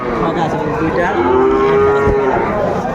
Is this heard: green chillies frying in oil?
no